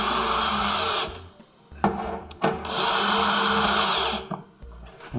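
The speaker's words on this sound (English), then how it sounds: "Then we'll use speed driver with a 5/16." A power speed driver with a 5/16 socket drives fasteners to secure a Nitro Fuzer Lite 6049 C plastic welder, whirring loudly in two long bursts with a short spin between them and a few sharp clicks.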